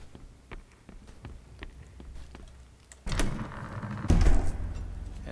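A door in the video game Two Worlds 2 opens when a handle is spun. Faint ticking clicks lead into a louder mechanical grinding rumble, then a heavier thunk, with no talk.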